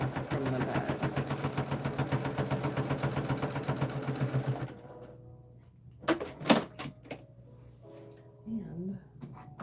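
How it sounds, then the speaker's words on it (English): A sewing machine runs in fast, steady stitching bursts through folded canvas and four layers of batting, working hard under the load, then stops and gives way to quieter handling clicks and a voice talking. "you can hear the weight on the machine because I'm sewing through, because it's folded over 4 layers of the batting and then the canvas"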